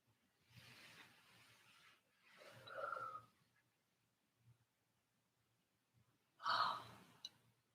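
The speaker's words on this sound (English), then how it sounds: "This class always makes me yawn so much." A woman leading a bedtime stretching class lets out several drawn-out yawning breaths, soft and close, rising and fading with quiet pauses between them.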